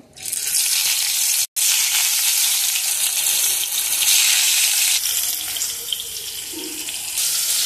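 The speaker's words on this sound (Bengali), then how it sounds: "এবার কি ভাজার জন্য এগুলো দিয়ে দেবো।" Banana flower fritters sizzle loudly in hot oil in a wok, a dense, continuous frying hiss broken by one short gap, with no voices.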